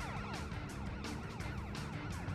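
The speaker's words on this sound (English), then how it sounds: "The shittiest fucking police siren I've ever heard in my life" A police siren from the PS2 video game Driv3r wails in a continuous repeating sweep over dense in-game engine and traffic noise, loud and steady throughout.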